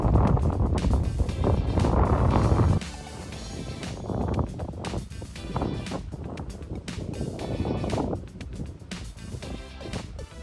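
Strong wind while cycling outdoors through Austrian farmland in Burgenland: loud, continuous roaring and buffeting on the microphone, surging and easing in gusts throughout.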